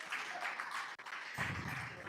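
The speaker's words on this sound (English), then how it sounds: "Clap for that statement" Audience at an alumni association gathering bursts into applause, a steady wash of many hands clapping in a hall, moderately distant and fairly soft.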